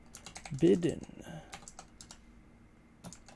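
Typing on a computer keyboard, a quick burst of clicky keystrokes followed by sparser taps, close and moderately loud, with someone speaking briefly over the keys.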